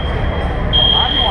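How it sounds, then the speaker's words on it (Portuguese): An alarm beeping at a car show, a high steady electronic tone that grows louder partway through, over crowd murmur. "Tá cara de ser alarme, né?"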